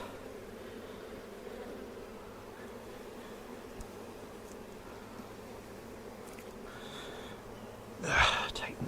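Bees buzzing around an open beehive during a vineyard check, a steady dense drone close by with some faint breathing and brief handling noise near the end.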